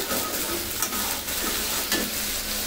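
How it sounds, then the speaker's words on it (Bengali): Masala spice paste sizzles as it is sautéed for spicy loitta fish bhuna, a dense, steady frying hiss up close with a couple of brief stirring scrapes. "কষিয়ে নিচ্ছি, প্রায় 2-3 মিনিটের মতন কষিয়ে নিব মশলাটা"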